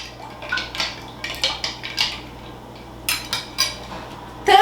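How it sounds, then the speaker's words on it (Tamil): Coconut salad drink with ice stirred in a bowl, giving a run of repeated clinks and scrapes of a spoon against the bowl at a steady pace, close and fairly clear over a low background hum. "இதுக்குள்ளே ஆட் பண்ணிவிட்டு நல்லா மிக்ஸ் பண்ணுங்கள்."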